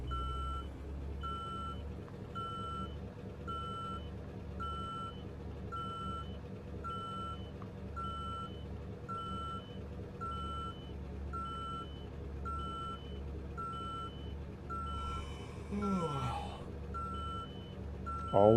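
In Euro Truck Simulator 2 with ProMods, a truck's reversing alarm beeps in a steady, evenly spaced series over a low engine rumble, loud and sustained throughout.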